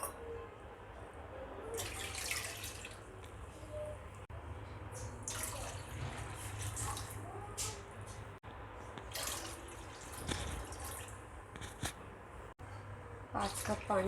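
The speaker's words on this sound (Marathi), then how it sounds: "त्या हिशोबाने आपण यामध्ये 5 कप बरोबर पाणी टाकूया." Water is poured into a kadhai one measured cup at a time, five cups in all, while making rava papad. The soft splashing pours come in separate bursts, faint and close.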